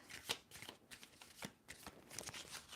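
Tarot cards being shuffled close by: quiet, uneven bursts of riffling and soft card slaps in a loose rhythm, alone with no talk.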